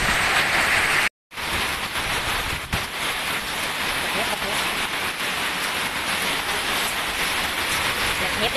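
A violent hailstorm with heavy rain in Chiang Khan, Thailand: a dense, loud, continuous roar of hail and rain battering surfaces, with a brief cut near the start and no pause in the downpour.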